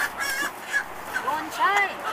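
Chickens crowded into cages at a live market give scattered squawks and harsh calls over a steady background din, with faint murmuring voices.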